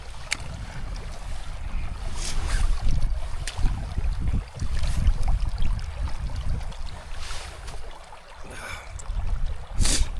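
Clean mountain stream water rushing down from a waterfall high on the Hampta Pass trail, a steady broadband wash with bursts of splashing, heard close and alone with no talking.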